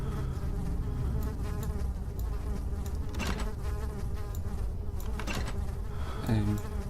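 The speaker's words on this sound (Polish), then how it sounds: "Słyszę muchy." Steady, close buzzing of flies in the video game Amnesia drones continuously, with a few faint knocks and clicks in the background.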